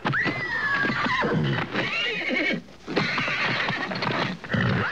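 A horse whinnies loudly and repeatedly in long shrill neighs, with brief pauses between calls and faint hoof clip-clop underneath, close and dominant.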